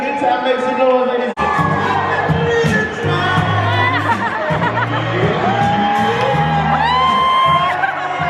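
A cruise ship audience aboard the Carnival Sensation whoops, shouts and cheers loudly over thumping party music, the crowd noise sustained throughout with a brief dropout early on.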